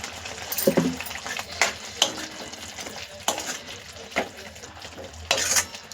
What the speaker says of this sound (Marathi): आता आपण त्यामध्ये हे जे फ्राय करून बोंबील आणि बटाटा घेतला होता ते टाकून देऊया